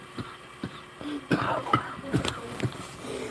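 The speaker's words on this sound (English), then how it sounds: "I cough like that." Several harsh, chesty coughs come in short bursts at close range over a quiet background, with no speech.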